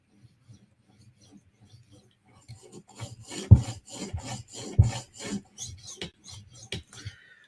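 A knife blade stroked across an 8,000 grit whetstone, a run of rasping rubs building from faint scrapes to firmer, closely spaced strokes with a couple of sharper peaks, close up.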